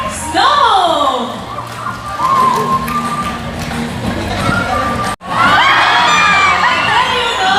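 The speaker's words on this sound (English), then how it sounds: "Round of applause for mathematical wizard, Snow!" Audience at a bird show at Ocean Park in Cebu City bursting into cheering and applause, loud and close, with children shouting and whooping over a host's voice, then a brief cut before the crowd noise resumes.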